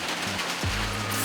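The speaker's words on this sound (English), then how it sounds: "It's just shedding rain right now." Steady rain falling across open plains during a goat hunt, a constant hiss of drops with a low rumbling tone, no voices.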